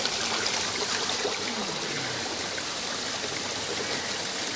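Water rushes along a stream in a steady, close, broadband hiss and gurgle that holds evenly throughout, with no voices present.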